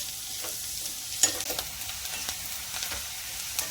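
Onions and capsicum frying in a pan while being stirred, a soft steady sizzle with scraping spatula strokes and small clinks, close and moderately quiet.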